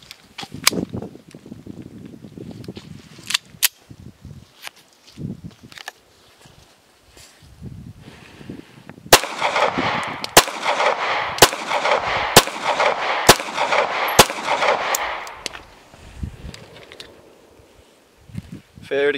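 Sharp single pistol shots from a Sig Sauer crack out at an outdoor range, sparse at first then a quicker string of about eight loud reports amid rustling, footsteps and occasional talking.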